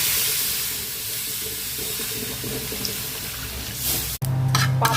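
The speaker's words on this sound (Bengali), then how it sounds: "এবার জল ঢেলে দেবো।" Water poured into a cooking pot of green amra chutney spiced with black pepper and Kashmiri chilli powder, a steady close splashing hiss that cuts off sharply and then resumes louder and fuller near the end.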